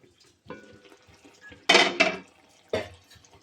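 A lid is set onto a cooking pot of methi amba, producing a couple of sharp metallic clanks and rattles close by, then a final clink as it settles, with no voices.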